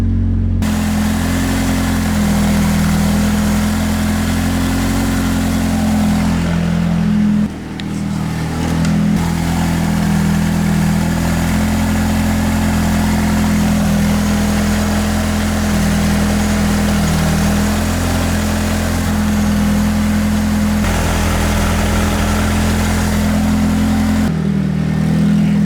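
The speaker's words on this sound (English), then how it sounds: "it sounds like I'm open downpipe right now" Nissan 180SX with a stock turbo engine running with an open downpipe, a loud, steady, deep droning rumble with strong low harmonics, close up, holding for nearly the whole stretch with a brief dip and slight pitch changes.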